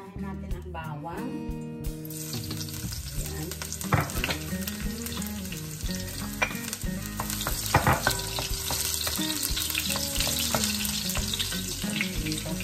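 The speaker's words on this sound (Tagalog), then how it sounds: "magigisa na tayo" Garlic sautéing in a pan for tawsi na bangus, a loud, constant crackling sizzle with spatula stirring scrapes, close up, over light background music.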